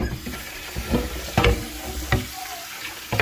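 A pan is set down in a kitchen sink while tap water runs, giving a steady splashing wash with a few sharp clattering knocks spread through it, close and fairly loud, with no voices.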